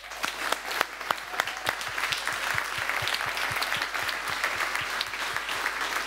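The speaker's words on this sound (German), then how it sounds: "Ja, der Applaus ist für euch." An audience applauds a group of children after their presentation at a kids' event. The clapping is dense and sustained for about six seconds, with sharp individual claps standing out close by and no talking over it.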